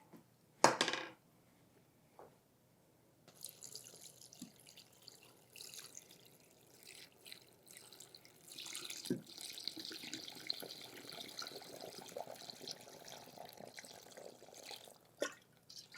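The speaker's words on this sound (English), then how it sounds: "So we're going to pour this right over the pickles." Room-temperature salt brine poured over cucumbers in a fermenting crock, a steady liquid splash and trickle lasting most of the clip after a sharp knock at the start, with faint clinks and no talking.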